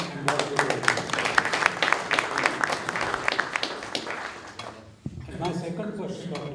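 An audience at a lecture gives a round of applause, loud rapid clapping that gradually tapers off before a brief pause, with speech resuming near the end.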